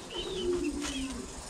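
On a pigeon farm, a pigeon gives a low, soft coo that lasts about a second. It is close and moderately quiet, with faint background hiss and no talking.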